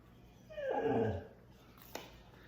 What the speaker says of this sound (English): My dog likes venison too, so she's telling me that, if you heard that in the background.